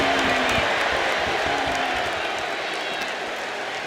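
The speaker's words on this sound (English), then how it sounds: "when you can't hear yourself think because the crowd's so loud" Roaring crowd noise from a WWE wrestling video game arena, a dense continuous wash of cheering and shouting that stays loud throughout, with a few faint tonal game cues underneath.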